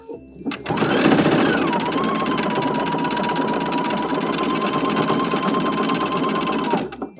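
A sewing machine runs in one steady, continuous stretch while stitching a sweater dress, overlapping the seam and backstitching at the end, loud and close with no talk, starting and stopping abruptly.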